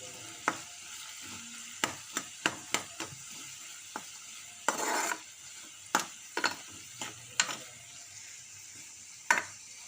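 Onions frying in a pan give off a soft, low sizzle, punctuated by irregular sharp taps and scrapes of a spatula against the pan.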